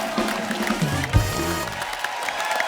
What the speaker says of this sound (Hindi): एक बार तो हमारी विमेन क्रिकेट टीम के लिए जोरदार तालियां